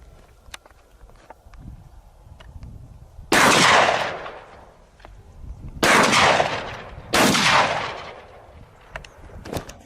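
Three loud gunshots ring out during a wild boar hunt, fired at a distant herd down in a valley, each blast sharp and followed by a long echoing decay, with quieter clicks and rustling between them.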